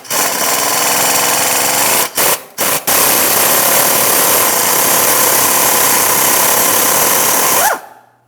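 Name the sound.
removing 14mm bolt from rusted exhaust manifold bracket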